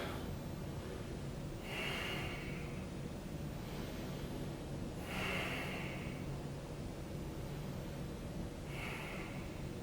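Deep breaths during a seated yoga hip and back stretch, three soft breathy swells spaced a few seconds apart over a steady low background hum, with no talking.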